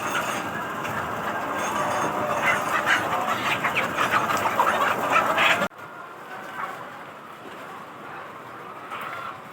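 Chickens on a poultry farm, a dense, loud wash of clucking and chatter from many birds that abruptly drops to a quieter murmur partway through.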